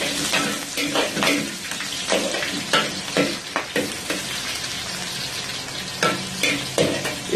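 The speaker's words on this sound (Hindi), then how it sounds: "इसके बाद हम इसके अंदर ऐड करेंगे ग्रीन चिली विथ जिंजर। इसको अच्छी तरीके से सौते करेंगे हम।" Green chili and ginger sauté in three to four tablespoons of hot oil for a restaurant-style beef dry chilli. A loud, continuous sizzle is broken by repeated stirring bursts and scrapes of the utensil.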